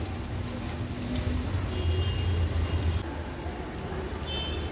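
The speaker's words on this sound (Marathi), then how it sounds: "आता मीडियम फ्लेम वरच हे आपण केळीचे काप व्यवस्थित फ्राय करून घेणार आहोत।" Raw banana slices fry in a shallow layer of oil over a medium flame, giving a steady, close sizzle and crackle that fills the whole stretch without speech.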